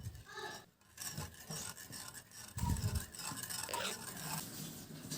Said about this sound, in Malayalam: ഇനി ഇതിലേക്ക് നമ്മൾ മിക്സ് ചെയ്തിരിക്കുന്ന മാവ് നമുക്ക് കുറച്ചായിട്ടിട്ടൊന്ന് ഇളക്കിയെടുക്കണം.